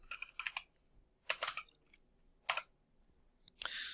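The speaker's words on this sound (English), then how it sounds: "we're going to need to type in chroot" Bursts of key clicks from a computer keyboard as commands are typed at a Linux prompt, three short clusters of taps with pauses between them and a louder rustling burst at the end, close and clear with no talking.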